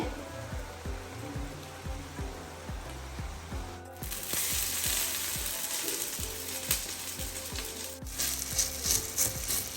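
Small rotti of dough cooking on a hot griddle in a home kitchen, a steady close sizzle under a rhythmic, regular clicking, with the hiss growing brighter partway through.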